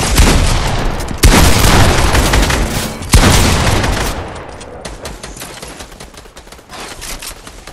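Light machine gun firing in Fortnite: loud, sustained bursts of rapid automatic fire with two sharp heavy blasts, trailing off into scattered distant shots.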